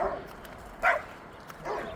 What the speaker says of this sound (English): Oh, all the dogs are out barking.